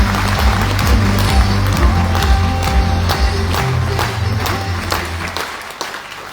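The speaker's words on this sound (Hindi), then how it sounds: "अपने अपने भगवान के लिए तालियां जोरदार लगाएं।" Loud applause from a large audience at a network-marketing event in Varanasi, a continuous dense clatter of clapping lasting several seconds over a steady background hum, easing off toward the end.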